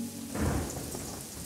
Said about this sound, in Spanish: Cuando Cenicienta y el príncipe Leo huyeron del castillo, comenzó a llover.